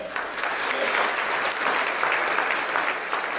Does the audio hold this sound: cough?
no